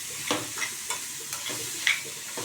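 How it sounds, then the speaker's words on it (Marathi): Carrots sauté in ghee as a spoon stirs them, a soft continuous sizzle with about five regular scraping strokes against the pan, fairly quiet and close. "गाजर जे आपण तुपामध्ये चांगले परतून घेऊ"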